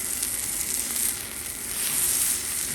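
Ribeye steak sizzling on a Blackstone griddle just after being flipped, a steady, close, loud hiss and crackle of frying fat that holds without a break and with no talking.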